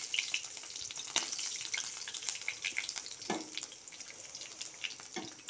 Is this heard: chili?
yes